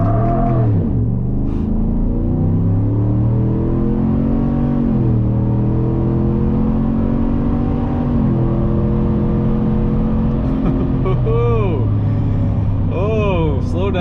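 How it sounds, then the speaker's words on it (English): A 2020 Chevrolet Silverado pickup engine fitted with a cold air intake drones at idle, then revs up in several rising surges, the pitch climbing and falling with each throttle blip. "Spool her up a little bit and see what it's like."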